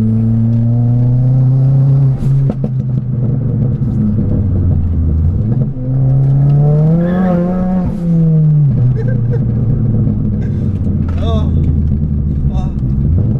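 A 325 bhp hybrid-turbo Ford Fiesta ST hatchback engine roars loudly and continuously on a track, its pitch rising and falling through revs and gear changes, close and dominant throughout.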